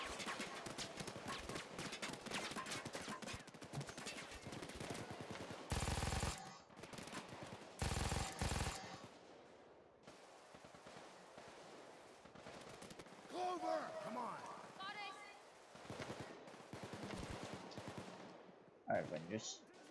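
Machine gun fire in Payday 2 hammers in rapid clattering bursts, loud and close, mixed with other game noise, two harsh static-like blasts and stretches of quieter action.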